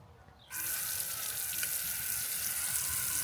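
Water starts running suddenly while garden plants are being watered, giving a steady, fairly loud gushing hiss that holds evenly to the end.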